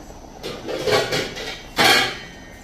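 A metal lid set down over a pot of simmering fish curry, two knocking clatters about a second apart, the second sharper and louder, close by in a home kitchen.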